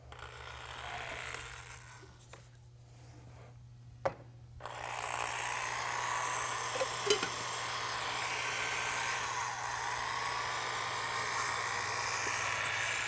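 Self-leveling epoxy coating being mixed with a powder filler by a power drill mixer, a continuous whirring motor drone that starts after a short pause and runs steadily, nearby and fairly loud.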